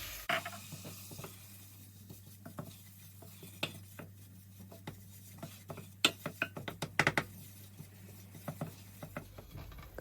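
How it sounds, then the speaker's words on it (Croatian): A spoon scrapes and stirs flour through melted butter in a pan, with a soft steady sizzle underneath and a run of sharp clicks and taps against the metal, close and fairly quiet. "U istopljeni maslac dodamo brašno i miješamo neprestano dok brašno ne"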